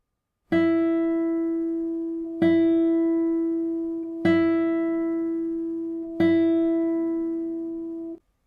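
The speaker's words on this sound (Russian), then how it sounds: "Указательный и средний пальцы играют поочередно 4 звука на первой струне." Four clear plucked notes on a guitar's first string, played alternately with index and middle fingers, ring out one after another at an even slow pace, each sustaining and fading before the next, with no talk.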